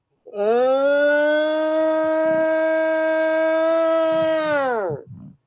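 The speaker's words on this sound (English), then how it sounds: "other times, you hear the long, sort of mournful howls, often described as the Ohio howl" A recording of a long, steady, mournful howl known as the Ohio howl. A single loud tone rises, holds level for nearly five seconds like a siren, then drops away at the end.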